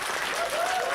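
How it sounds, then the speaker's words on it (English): Applause from a convention audience at a closing ceremony, a brief, dense patter of clapping with a faint voice or cheer rising over it. "come on, give a round of applause here for Nash."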